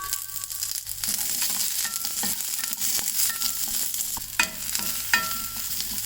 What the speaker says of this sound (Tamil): இது எல்லாத்தையும் வதக்கிக்கலாம்.